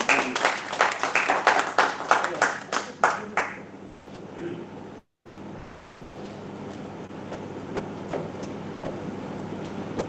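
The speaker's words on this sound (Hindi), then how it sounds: "हाथ मिलाइए और जोरदार ताली बजाइए।" Audience at a Dr. Babasaheb Ambedkar 130th birth anniversary celebration bursts into loud, dense clapping that fades after about four seconds, followed by a brief gap and then a quieter hall with low murmuring.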